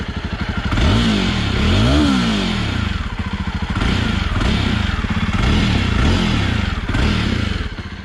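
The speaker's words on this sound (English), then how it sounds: "Let's listen to the bike." A 2021 Jawa Perak 350cc motorcycle engine runs loud and close, idling with a chugging rhythm and a couple of short revs early on, no voices.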